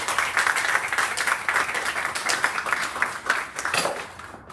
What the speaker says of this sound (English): So let's please give a round of applause to them.